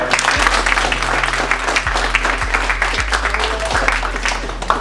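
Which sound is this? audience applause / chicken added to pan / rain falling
audience applause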